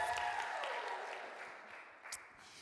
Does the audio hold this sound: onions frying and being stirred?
no